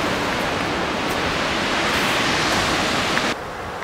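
A waterfall on a hiking trail in Ithaca, New York roars as a steady, dense broadband rush that fills the whole clip, loud and close, dropping slightly in level near the end.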